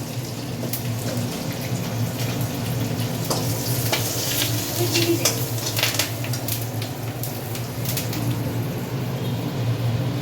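Dried chillies, panch phoron, curry leaves and cumin sizzling in hot oil, a steady bright crackle with occasional stirring clicks and pops, close and continuous with no talk.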